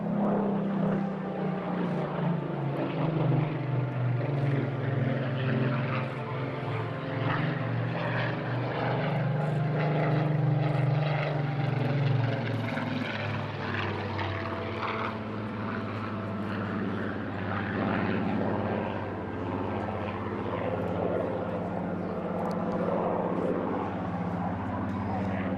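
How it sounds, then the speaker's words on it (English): Supermarine Spitfire PR XIX, an unarmed high-altitude reconnaissance aircraft with a Griffon piston engine, displays at the Eastbourne Airshow, its loud, continuous engine roar swelling and fading as it passes, with a commentator talking over it throughout. "This particular aircraft, Papa Sierra 853, an unarmed high-altitude reconnaissance aircraft, one of a batch of 79 Mark 19s built at Supermarine in Southampton."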